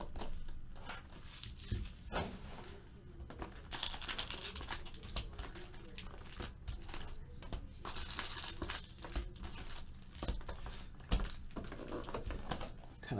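Crinkling plastic and papery rustles with light clicks and taps, steady and close, as a 2016 Upper Deck Marvel Masterpieces trading card box is opened and handled, no voices.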